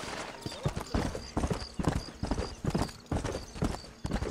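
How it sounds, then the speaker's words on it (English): Horse hooves in Red Dead Redemption clip-clopping in a steady walking rhythm, crisp close hoofbeats on hard ground with faint tack jingles, no talk over them. "Oh, no, my horse is still here."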